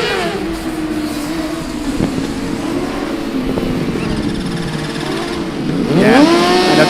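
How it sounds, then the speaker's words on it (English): A Formula Student race car in a manual autocross event, its engine note rising and falling as it works through a corner, loud and close, then revving hard and climbing near the end. "And you can hear it roaring through the first corner."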